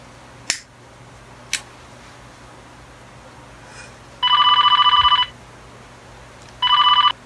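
Two bursts of an electronic telephone ring, each about a second long and fairly loud, separated by a pause, following a couple of sharp clicks over a quiet background.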